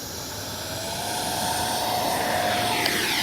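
A small jet engine on a FLYFANS L-39 RC model jet whines steadily with a rising high-pitched tone and broad hiss, growing louder as it powers up for takeoff.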